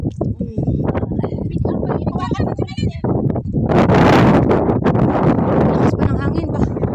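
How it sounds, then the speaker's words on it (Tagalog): Strong wind gusting outdoors at Zekreet, Qatar, buffeting the microphone in a loud rushing surge midway, with people talking over it throughout. "Lakas pa ng hangin ba?"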